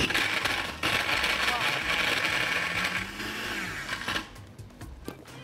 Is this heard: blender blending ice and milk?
yes